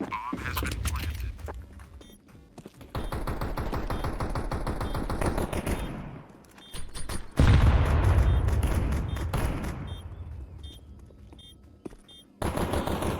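Rapid bursts of automatic gunfire in a Counter-Strike 2 match, loud and close, with repeated volleys and short pauses, a heavy boom-like stretch in the middle, and brief voices in the background.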